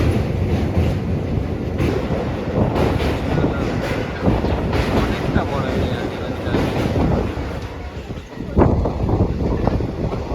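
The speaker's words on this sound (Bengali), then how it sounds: "একদম নির্দিষ্ট টাইমে ট্রেন এসে পৌঁছিয়েছে তমলুক স্টেশনে" A passenger train on the Digha to Howrah route runs with a loud, continuous rumble and rattling wheels, wind buffeting the microphone, while a voice speaks briefly over it.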